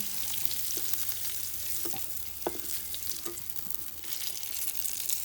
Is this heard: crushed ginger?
yes